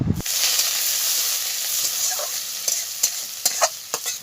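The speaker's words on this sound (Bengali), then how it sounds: "এবার এই তেলের মধ্যে গোটা গরম মশলা দিয়ে দিলাম গোটা জিরেটাও দিয়ে দেব কুচানো পেঁয়াজ দিয়ে দিলাম" Whole garam masala, cumin and chopped onion frying in oil for a taro dish, a loud close sizzle that starts abruptly and hisses steadily, with a few sharp stirring knocks toward the end and no speech.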